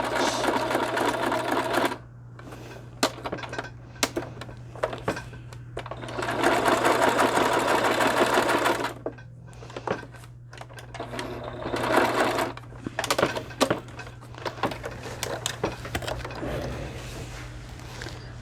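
A sewing machine stitches stamp cards in several bursts, a long steady run in the middle and shorter runs around it, with brief pauses and clicks between them.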